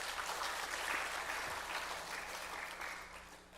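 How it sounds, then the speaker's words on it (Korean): A church congregation claps together during a Wednesday worship service, a steady wash of applause holding at moderate loudness for a few seconds and tapering slightly toward the end. "우리 박수 한번 보냅시다."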